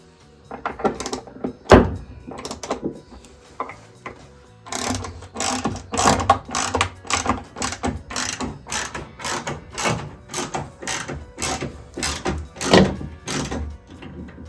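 Ratchet wrench tightening a bolt on restored rusty bathroom hardware, a long run of quick, close, rhythmic clicking strokes after a few early clacks.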